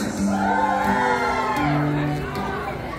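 Parents at a baptism party let out a loud group shout on cue, a sustained chorus of overlapping voices and whoops from a crowd, close and strong for about three seconds.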